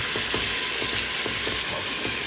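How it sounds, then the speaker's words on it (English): Ground meat sizzles steadily in a hot pan over medium-high heat as it is stirred and broken apart, with soft intermittent scraping and clicks from the utensil under a continuous close frying hiss; no one talks. "Gotta check on the meat, you can't forget about that. Moving it around, breaking it up."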